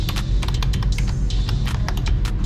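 Rapid key taps on a computer keyboard as a mobile number is typed into a search form, a quick irregular run of close, crisp clicks over a low background hum.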